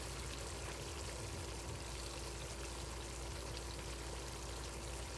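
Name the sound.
pouring vodka into pasta sauce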